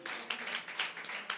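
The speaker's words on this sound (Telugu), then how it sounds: "చప్పట్లు కొట్టండి." Congregation clapping hands at a Christian prayer meeting, a faint, fairly distant round of scattered applause in rhythmic surges for a moment.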